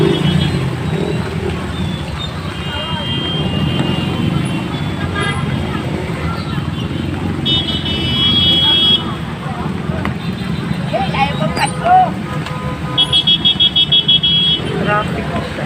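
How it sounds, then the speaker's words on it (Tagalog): Dense road traffic on a flooded street, with a continuous rumble of car, bus and motorcycle engines, repeated horn toots and splashing, while people talk nearby. "Traffic siya."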